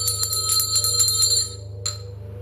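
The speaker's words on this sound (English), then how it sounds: "A bell rang back, ring that bell again." A small bell rings in a room of an old mansion, several quick bright tinkles in a run followed by one faint lone strike after a short pause, over a low electrical hum.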